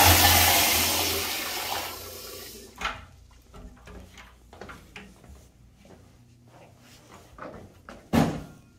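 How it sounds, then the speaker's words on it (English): A short flush from a 1999 FV Briggs toilet in an office building restroom: a loud rushing burst of water that tapers off within about three seconds, followed by quieter clicks, knocks and trickles, then a sharp thump near the end. "Oh, that flush is short."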